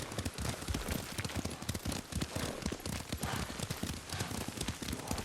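A horse gallops in the video game Ghost of Tsushima, its hooves beating a fast, steady clip-clop rhythm close up without a break, and rain may be falling faintly underneath.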